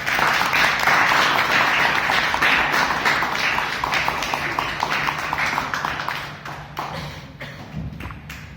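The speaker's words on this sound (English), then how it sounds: "with a big round of applause" A Toastmasters club meeting audience applauds steadily with dense clapping that holds strong, then thins and fades toward the end.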